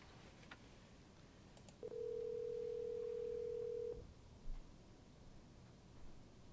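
A single steady telephone tone sounds for about two seconds while a call is being placed, faint against quiet background hiss, with no talking.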